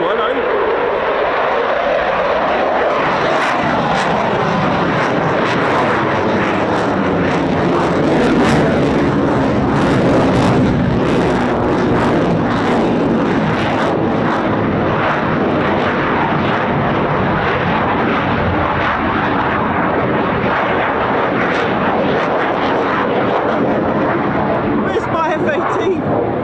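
An F-18 fighter jet departing at the Royal International Air Tattoo air show gives a huge, continuous roaring blast with a crackling, rumbling texture and a shifting, sweeping pitch. Voices come through faintly underneath.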